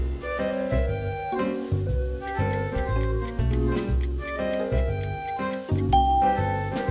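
An alarm clock ticks in a steady, even rhythm, half buried under loud, continuous background music.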